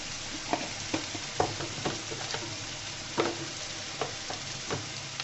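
Radish curry with salt sizzles gently in a pan while a spatula stirs it, giving irregular scraping taps over a soft, constant frying hiss.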